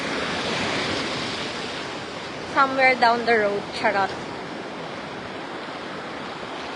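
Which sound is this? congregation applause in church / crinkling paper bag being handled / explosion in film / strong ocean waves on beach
strong ocean waves on beach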